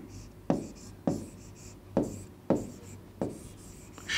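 Chalk or marker strokes on a classroom board, five evenly spaced scratchy strokes about half a second apart, close and clear with no talk over them.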